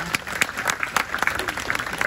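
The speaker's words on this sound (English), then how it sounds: "How about a round of applause for the kele'a?" Audience applause at a Tongan cultural performance at the Polynesian Cultural Center in Hawaii, honoring a kele'a conch player; dense clapping mixed with a few voices, steady and fairly close throughout.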